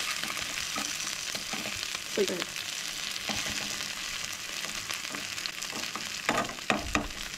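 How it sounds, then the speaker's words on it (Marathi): Prawns sizzle steadily in a pan for Goan-style dry prawn curry, with a constant crackling hiss and a few louder pops and spatters near the end, close up and with no voices. "आणि तुमच्या फ्राय करताना टाइम लागणार"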